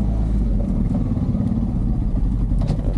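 A Honda Pioneer 500 side-by-side in four-wheel drive rolls over a small pile of snow, its engine droning low and steady with faint clatter, close and continuous.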